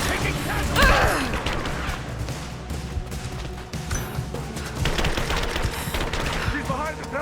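Enemy gunfire in Rise of the Tomb Raider, bursts of automatic fire and single shots mixed with crashes, while soldiers shout under the shooting.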